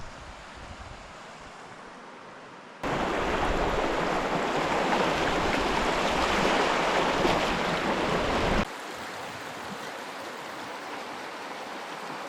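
Fast-flowing river water rushes loudly in a sustained roar for several seconds during a knee-high river crossing in New Zealand, with quieter ambient noise before and after.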